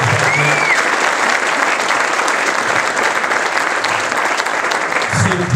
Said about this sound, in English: give the great Bernard Jackman a round of applause.